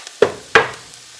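Roux for gumbo sizzles in a pot as a spoon scrapes and stirs it, giving two sharp scraping strokes, each followed by a short hissing sizzle that fades quickly, close and fairly loud.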